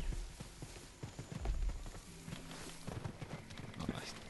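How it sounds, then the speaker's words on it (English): In the Predator: Hunting Grounds video game, the Predator moves through jungle trees with scattered thumps, clatter and rustling against a busy ambient background, with a voice talking over it. "You can hear him bouncing around the trees."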